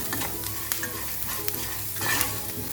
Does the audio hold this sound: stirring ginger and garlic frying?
yes